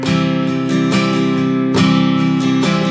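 Acoustic guitar strumming the chord pattern of the verse of a song, loud and close, with steady rhythmic down-and-up strokes and ringing chords, no voice.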